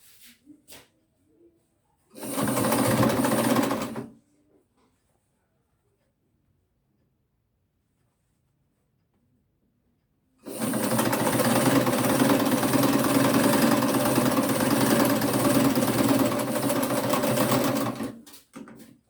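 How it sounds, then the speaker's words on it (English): A sewing machine stitches fabric for a simple pair of shorts, running in a short steady burst of about two seconds, then after a quiet gap a longer continuous run of roughly eight seconds, close and loud with no talk. "After stitching on these areas, this is what we have."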